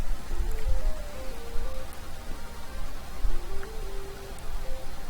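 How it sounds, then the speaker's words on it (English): Slime rains onto a sandy beach in an anime visual novel, making a dense, steady patter that runs throughout beneath a faint sustained musical tone. "I hear the pitter-patter of something falling against the sand"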